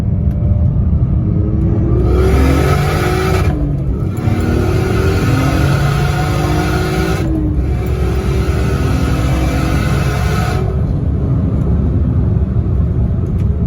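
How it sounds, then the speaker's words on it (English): A tuned turbocharged car with modified intercooler piping accelerates hard through second gear, its engine rising in steady loud pulls with rumbling harmonics climbing in pitch, broken by brief shift-like dips, continuous and close throughout. "Let's just do a second gear pull here."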